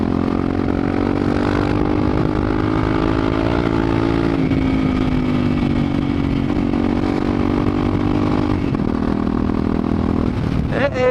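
A motorcycle ridden in an informal street race pulls away under throttle, its engine note holding steady and loud near the rider with shifts in pitch through the gears, and someone talks over the engine.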